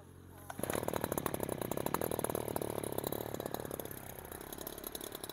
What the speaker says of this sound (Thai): มากีตาร์ RBC 410นะครับตัวแท้จะทำการทดสอบตัดหญ้านะครับลองเปิดสวิตช์เปิดน้ำมันดึงช็อคสตาร์ทได้เลยนะครับ